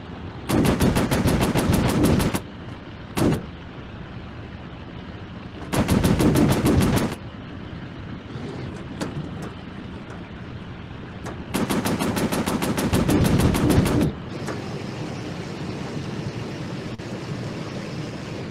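Warplane machine guns in a Pacific air battle game fire in three long rattling bursts, each several seconds, loud and close, with a short blip between them over a steady engine drone.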